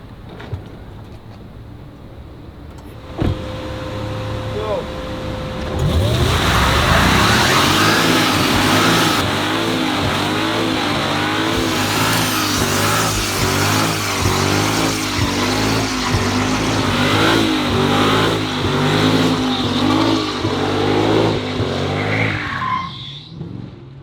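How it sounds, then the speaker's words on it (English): Mercedes E55 doing a burnout: engine revving hard while rear tires spin and squeal in a long, loud continuous screech with rising and falling revs, lasting most of the twenty seconds. "We're gonna cook these tires on the E55"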